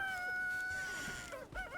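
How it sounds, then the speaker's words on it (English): Chickens clucking inside a coop in the video game Valheim, a faint busy run of short clucks and squawks layered over a sustained tonal game hum. "Okay. We get it, chickens."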